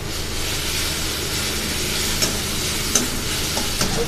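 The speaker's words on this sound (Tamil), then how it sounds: "கொஞ்சம் நல்லா லைட்டாக வதக்கிட்டு போகிறோம்." Sliced raw mango stirred and sautéed in a pan, a steady close sizzle and fry with scraping stir strokes and a few small clicks, no voices.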